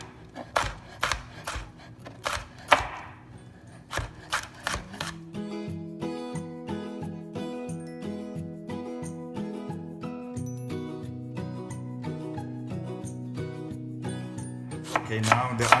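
A knife chops a spicy jalapeno on a board for green chutney, making a few crisp, rapid cuts during the first seconds before steady background music takes over.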